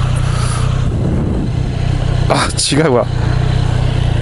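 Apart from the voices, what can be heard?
Triumph Street Triple motorcycle engine with Arrow exhaust muffler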